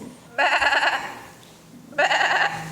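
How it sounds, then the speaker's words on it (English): Sheep bleat far off in two long, wavering bursts separated by a short pause, heard over a low background rumble. "In the distance, we hear the sound of sheep bleating."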